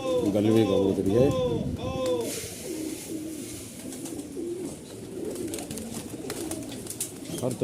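Pigeons coo in the background while someone speaks close by, his voice dominating throughout.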